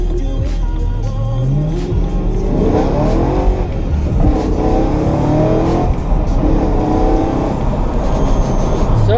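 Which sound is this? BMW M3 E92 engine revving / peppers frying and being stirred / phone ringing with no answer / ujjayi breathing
BMW M3 E92 engine revving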